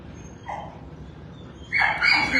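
Medium and large dogs in an animal shelter's kennels, with one short yelp early and then a burst of louder, overlapping barks and yips near the end.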